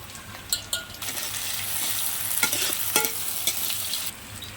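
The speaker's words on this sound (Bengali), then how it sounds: "তেল দিলাম, পেঁয়াজটা লাল হয়ে গেছে, রসুন থেঁতোটা দিলাম" Onion and crushed garlic frying in hot oil in a pan, with a steady close sizzle and a few sharp scraping clicks as a utensil stirs them.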